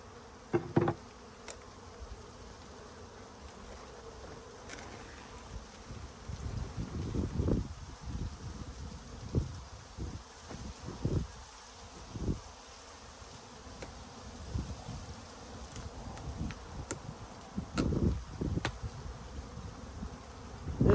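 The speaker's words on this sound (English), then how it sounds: "Yes, there's some bees escaping" Honeybees spilling out of a freshly opened bee package buzz in a low, shifting drone, with individual bees swelling louder as they fly close past amid faint rustling handling noises.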